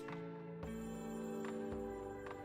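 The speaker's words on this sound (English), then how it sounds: "Wait, I hear the ringing." A telephone rings inside the video game Stop the Ringing, a steady electronic trill layered over sustained game music, quiet and continuous with small repeated pulses.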